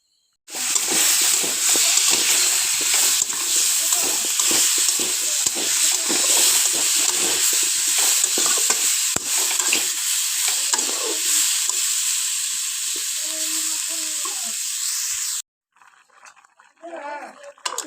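Potato curry bubbling at a boil in a pan with a steady hissing simmer and occasional stirring scrapes, loud and close, before the sound cuts away near the end; a person speaks over it.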